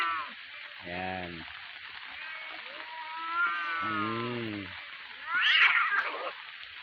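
Cats outdoors in the Philippines meowing and caterwauling in a standoff, drawn-out yowls trading back and forth, one near and loud, ending in a harsh burst, with light rain in the background.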